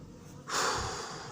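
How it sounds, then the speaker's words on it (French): Heavy breathing from a person catching their breath after a bee sting while capturing hornets outdoors, a loud close exhale surging in after a quieter start and continuing steadily. "je reprends ma respiration"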